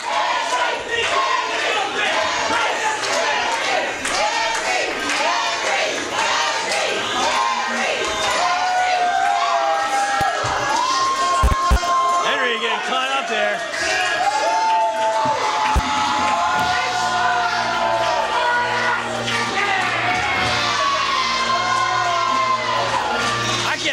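A packed wrestling crowd at a WAW event cheers and whoops for Henry the Great's entrance, a sustained loud roar of shouts and screams, with a few sharp thumps mid-way and a long cheer continuing to the end.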